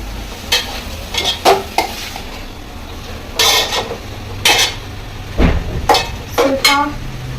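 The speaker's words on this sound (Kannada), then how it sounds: "ಚೆನ್ನಾಗಿ ಫ್ರೈ ಮಾಡ್ಕೋಬೇಕು ಚೆನ್ನಾಗಿ ಫ್ರೈ ಮಾಡ್ಕೊತಾ ಇರಬೇಕು" Chicken pepper fry sizzling in a pan over medium heat while a spatula stirs and scrapes it, with sharp metallic knocks in irregular clusters over a constant low fry, close and loud.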